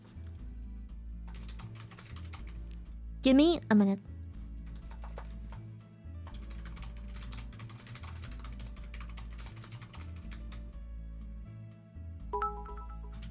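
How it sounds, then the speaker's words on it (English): Rapid clicking on a computer keyboard comes in steady bursts with brief pauses, close and clear, while someone speaks briefly over it. "I'm typing this down."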